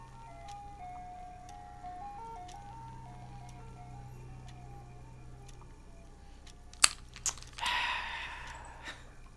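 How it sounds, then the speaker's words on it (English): An ice cream truck drives around outside during quarantine, its chiming melody faint and distant through steady background hum, followed by a few sharp clicks and a short burst of rustling noise. "there's a fucking ice cream truck going around outside when we're on quarantine"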